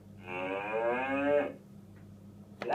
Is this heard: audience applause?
no